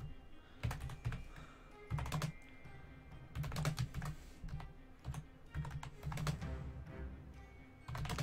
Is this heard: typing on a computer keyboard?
yes